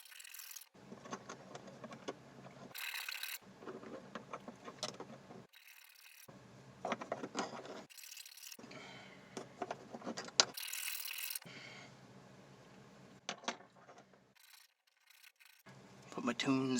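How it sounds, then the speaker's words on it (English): Sharp edges of a handmade fine pure silver bracelet being filed down, with irregular bursts of close, scratchy rasping strokes broken by short silences, no speech. "I'm going to file down the edges because they're just too sharp"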